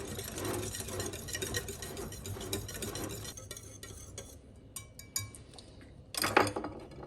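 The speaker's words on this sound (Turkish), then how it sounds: "Ve bunu güzelce bir karıştıralım" A spoon stirs a stale-bread cookie mixture in a bowl, with clinking and scraping against the dish, steady at first, then a few sharp knocks and a louder clatter near the end.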